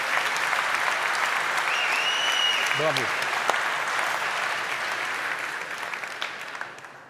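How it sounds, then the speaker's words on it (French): Sustained applause from an audience at a French chamber of commerce (CCI) handover event, loud and steady for several seconds, with a brief cheer of bravo rising above it and fading slightly toward the end. "Je vous demande de l'applaudir"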